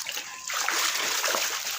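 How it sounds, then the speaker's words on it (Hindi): Water splashes and sloshes in a flooded home courtyard as feet move through it, a close, loud splattering burst that continues unevenly after a brief quieter start. "ये देखिए इतना सारा पानी है"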